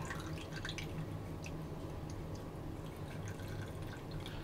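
Heavy syrup from a 20-ounce can of pineapple pours in a steady, continuous liquid stream with faint dripping, close by and alone with no talk.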